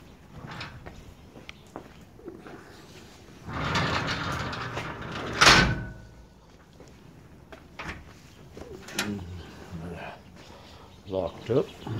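A greenhouse cellar door swings shut with a loud, broad scraping rush, then a sharp metallic clack as it latches and locks. Softer knocks follow, and a voice briefly sounds near the end.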